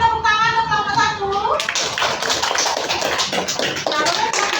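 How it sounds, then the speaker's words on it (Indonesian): Schoolchildren in a classroom clap for a group that has just presented. A voice is heard first, then a burst of close, uneven clapping from many small hands continues to the end. "Berikan tepuk tangan untuk kelompok 1."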